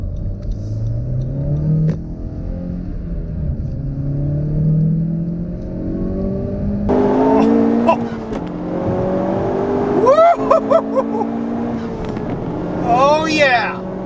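A 2018 Honda Civic Type R with a Ktuner V2 tune accelerates hard in plus R mode, its engine note climbing steadily through rising revs, with a gear change and sharper, louder pulls near the end.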